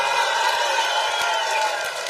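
A political rally crowd roars with steady applause and cheering, loud and continuous, with scattered whoops from the packed audience.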